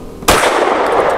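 A single loud, close pistol shot from a lightweight Arex Delta M Gen 2, a sharp crack followed by a lingering echo at an outdoor steel-target range.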